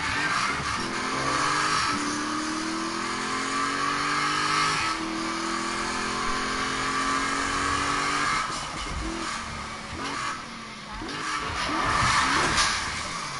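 A BMW engine in a PS4 driving game revs up through rising gear pulls, then the note drops and surges again, loud and steady throughout with a bit of tyre noise.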